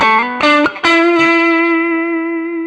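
Electric guitar played through a NUX Mighty Plug headphone amp modeller on a deluxe reverb amp setting, a few loud plucked notes ending in one sustained tone that rings out and slowly fades, with no talk.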